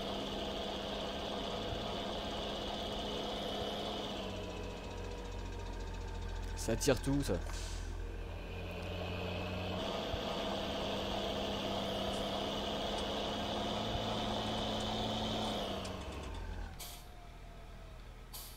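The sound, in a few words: Fendt Favorit tractor engine with Turbo Shift, Farming Simulator 19 video game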